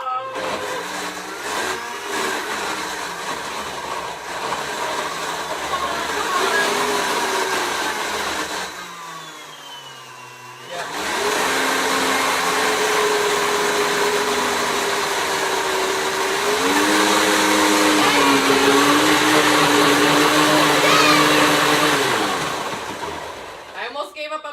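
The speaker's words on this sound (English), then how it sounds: "it looks like my blender's done" A kitchen blender whirs loudly while blending carrot top chimichurri, a steady high motor whine with a brief pause before it ramps up again, with someone talking briefly.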